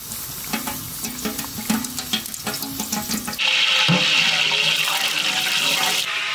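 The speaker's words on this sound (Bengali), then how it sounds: "গামলা গরম হয়ে গেছে, দাদা দিয়ে দেবো সর্ষের তেল।" Mustard oil poured into a large metal pot already hot on the fire for village-style mutton curry, bursting into a loud, steady sizzling hiss that cuts in abruptly after a few seconds of light clinks and outdoor background noise.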